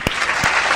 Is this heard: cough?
no